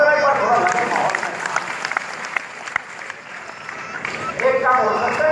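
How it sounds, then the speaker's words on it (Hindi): Audience clapping at a Hindi poetry recital event, a sustained burst of applause from the crowd with voices audible underneath and a fresh surge near the end. "तालियां बजाओ जरा एक बार, थोड़ा लगे माहौल में।"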